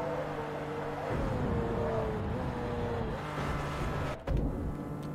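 A Lamborghini engine in the racing game Forza Motorsport 3 hums steadily at close range, its tone shifting slightly as revs change, with a brief sharp drop and surge near the end.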